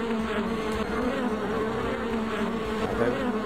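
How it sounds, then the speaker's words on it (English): Steady insect buzzing from a swarm of bees in the video game Death in the Desert (SOB Story 3), a dense drone holding level and close for the whole stretch with no talk over it. "Just in case those stupid bees come back."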